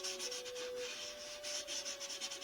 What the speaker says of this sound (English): taking some 500 grit sandpaper and going around my edges and cleaning them up